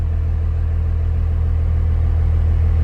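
A 2nd-gen Ram's 12-valve Cummins diesel idles with a loud, steady low rumble and an even, pulsing clatter, close and continuous with no talk over it.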